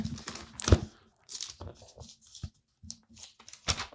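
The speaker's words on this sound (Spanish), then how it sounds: "para escuchar las hojas pasar es... me encanta, me gusta" Bible pages crinkle and rustle in several short bursts, with a sharper crackle near the start and softer page flutters after, close and fairly quiet.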